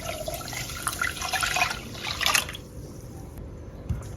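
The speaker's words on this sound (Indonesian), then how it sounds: "tambahkan 700 ml air" Water being poured into a palm sugar pudding mixture, a short splashing pour for about two seconds that then fades, leaving quiet background with a small knock near the end.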